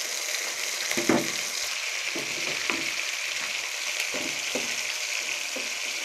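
Corned beef fries in a pan alongside upo (bottle gourd) with a steady low sizzle, broken by several soft scraping stirs that land every second or so, close by with no voices.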